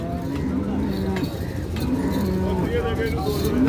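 Buffalo moo loudly and repeatedly at a busy livestock market in Jagraon, with overlapping lowing calls continuing over steady crowd noise and people talking nearby.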